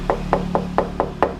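Six evenly spaced knocks ring out on the metal of a Toyota 4A-FE car radiator, each a short, close, resonant clunk struck at a steady pace with nothing else heard.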